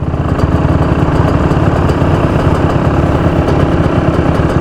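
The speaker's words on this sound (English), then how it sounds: "wait for Hudson to kick his bike" A Yamaha YZ125 two-stroke dirt bike engine runs loud and close, a steady buzzing idle with a rapid, rattling pulse and no speech over it.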